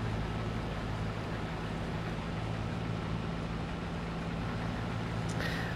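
Steady low engine drone of a roughly 380-horsepower combine harvester in Farming Simulator 22, a continuous loud rumble with broadband noise throughout and no speech.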